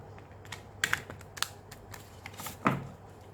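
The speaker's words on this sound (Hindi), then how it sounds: "विदाउट वेस्टिंग टाइम जो है मैं कार्ड को शफल कर लेती हूँ" Tarot cards handled and shuffled during a reading, a few faint, scattered soft clicks and flicks over a quiet room hum, with no talk.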